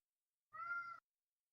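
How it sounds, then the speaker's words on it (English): A single short meow from a cat, clear and tonal, lasting about half a second and standing alone against silence. "That's cat."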